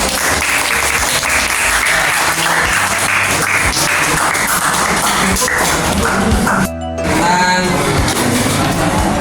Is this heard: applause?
yes